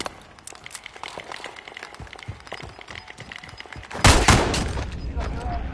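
Gunfire in a video game: a dense run of rapid shots and bursts crackles throughout, with a louder, closer volley near the end, mixed with game noise.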